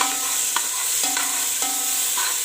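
Rice and mixed vegetables with green chilli, ginger and tomato are stir-fried for pulao, a continuous close sizzle broken by a few regular scraping strokes of the spoon, with no talking.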